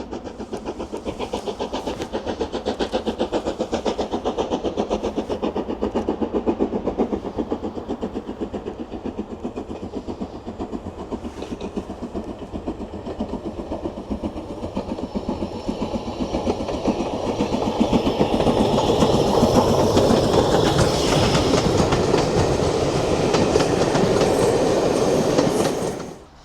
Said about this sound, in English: So the train is coming now.